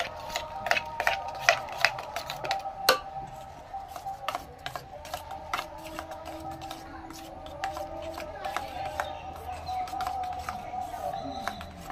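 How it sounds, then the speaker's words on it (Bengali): Eggs beaten in a bowl for a spinach and egg dish, a fast, steady clatter of utensil tapping against the bowl in continuous rhythmic strokes, close and fairly light, with brief talk in places. "ভালো করে ফেটে নেব, এইভাবে ফেটে নেব ভালো করে"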